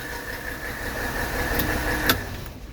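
A 1983 Mercedes 300TD diesel engine runs at a steady, close idle with a faint whine. A brief click sounds near the end as the idle fades, with no voices.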